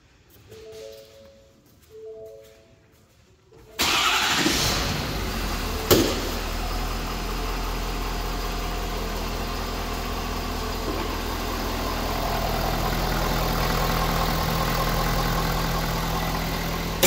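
A 2017 Ford F550 crew cab diesel flat deck truck is cranked and fires up abruptly, then settles into a steady, loud, low diesel idle that continues unchanged to the end, with no talking.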